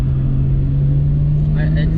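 A Nissan R34 Skyline GT-R merging onto a highway in Japan, a steady loud cabin drone of engine and road noise heard from inside, with a faint high chirp near the end.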